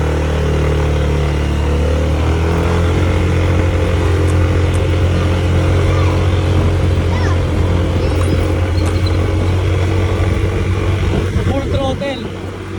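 Motorcycle on stock CVT drive parts accelerating uphill, a steady loud engine drone with rising whine held close throughout, a brief higher revving burst near the end.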